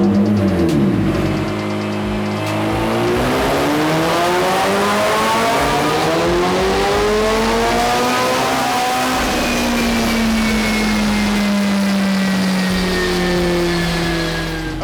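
Mitsubishi Evo strapped to a dyno, engine revving hard through climbing pitch sweeps, a brief lift and repeated pulls building to a loud, sustained high-rpm wail up close with no talk.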